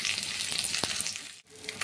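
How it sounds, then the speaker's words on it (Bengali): Katla fish pieces frying in oil in a pan, a steady close hiss and crackle with a brief clatter midway and a short dip in the sizzle near the end. "এইভাবে সব মাছগুলো ভেজে নিচ্ছি।"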